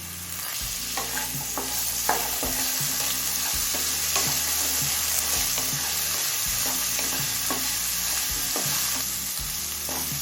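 Chopped carrot frying with potato in a pan, a constant close sizzle broken by repeated rhythmic scraping and stirring strokes of a utensil against the pan, with no voices.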